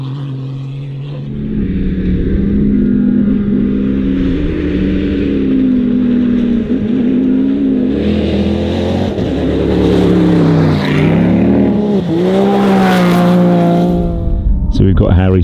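A Mini rally car competing in the Dakar 2023 rally roars past with a loud, rising and falling engine note that swells and fades, while voices shout over it.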